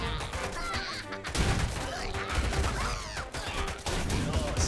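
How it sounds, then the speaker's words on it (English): Rapid gunfire from a machine gun turret in a strategy video game, loud and continuous bursts mixed with crashing battle noise, with no speech. "Machine gun turret is getting a lot of work done, actually."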